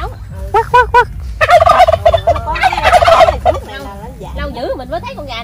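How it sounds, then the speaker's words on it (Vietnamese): A turkey gobbles repeatedly in short rattling bursts at a farmyard in the Mekong Delta countryside, loud and close, with a louder run of gobbles in the middle and quieter calls trailing off at the end. "Gà lôi này."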